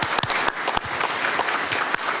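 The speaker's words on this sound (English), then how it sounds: "let's give them another round of applause." Audience applause at a county commissioners board meeting, a steady patter of many hands clapping up close, fairly loud and unbroken, with no voices over it.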